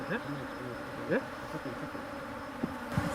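Honey bees buzzing close by at a beekeeper's hives, a steady insect drone with a few brief louder passes as individual bees fly near.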